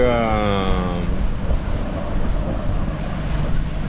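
Wind roars and waves wash around a sailboat at sea off Corsica, heading into a 17-knot headwind. A steady, loud rushing of wind noise and surf continues throughout, with brief tonal creaking near the start.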